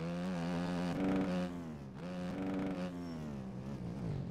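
KTM dirt bike engine with a quick shifter in MX Bikes, a buzzing motocross engine held at high revs with quick dips and climbs as gears snap through, loud and steady with no talk.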